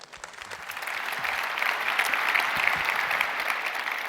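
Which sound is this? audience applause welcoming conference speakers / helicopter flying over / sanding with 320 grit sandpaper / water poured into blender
audience applause welcoming conference speakers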